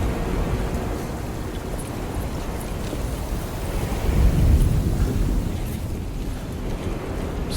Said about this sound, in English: Honestly thought the rain would be a little heavier.